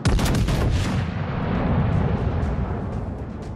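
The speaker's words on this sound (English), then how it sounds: "concentrate fire on the target" Heavy naval artillery booming in the warship battle game World of Warships: Legends, a loud salvo of overlapping blasts at the start rolling into a long, thunderous rumble that slowly fades.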